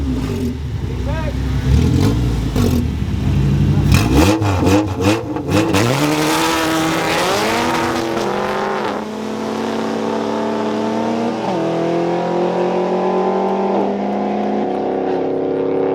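Turbocharged Chevrolet Tahoe engine revving hard and pulling away, rising tones climbing then settling into a steady drive, loud and close with voices talking over it.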